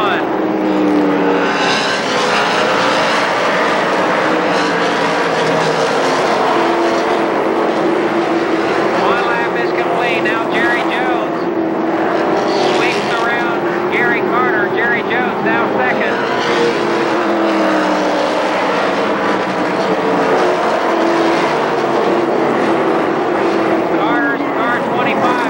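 Dwarf race cars circle Columbus Motor Speedway at a 1996 race, a continuous loud engine roar with shifting revs from several cars together, and a commentator's voice rides over it.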